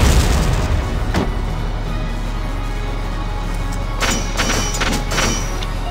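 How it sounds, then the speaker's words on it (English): A mortar in the video game Valkyria Chronicles fires with a deep, heavy boom, then a rumbling roar, with a couple of sharper blasts a few seconds later over a constant low drone. "now might be the time to have some fun with the mortar"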